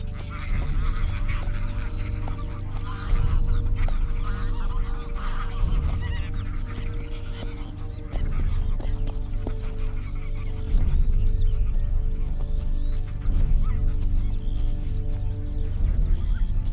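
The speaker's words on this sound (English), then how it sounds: "the vigilant goose parents raise the alarm and withdraw back to the water" Wild geese on a lake raise loud, repeated honking alarm calls as they retreat to the water, a dense chorus of overlapping calls with a narrator's voice speaking over it.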